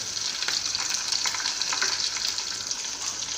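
Green chillies with salt and sugar fry in a pan for Gujarati khaman dhokla, making a brisk, steady sizzle broken by light stirring scrapes and crackles, close and fairly loud.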